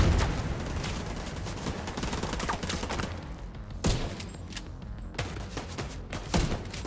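Dense video-game gunfire from Tom Clancy's The Division 2, a continuous fusillade of rapid shots with sharper louder bursts standing out near the end, with no talk over it.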